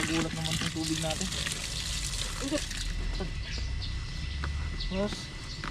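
Watering a backyard garden, a splashing trickle of water running steadily beneath a person's chatter.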